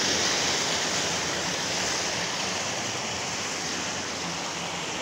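Steady roaring rush of a waterfall at Shahdara Point near Islamabad, a continuous broadband wash of falling water with no breaks, close and fairly loud, nothing else over it.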